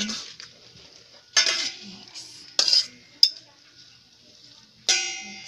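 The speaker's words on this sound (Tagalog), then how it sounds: "Mix para yung lasa is sagol dito siya dito sa noodles" Utensil clanks and scrapes against a pot as palabok noodles are tossed with sauce, with a few sharp metallic knocks between quieter stirring and scraping.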